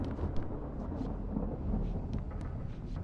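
Thunderstorm in Alan Wake Remastered: a continuous low rumble of thunder and rain, fairly faint and steady throughout with no clear separate claps.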